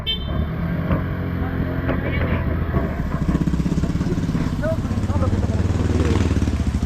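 Motorcycle engines rumble and idle nearby in a motorcycle parking area near Yambo Lake, Laguna, amid street noise, with a steady low drone and occasional revving, while people talk in the background.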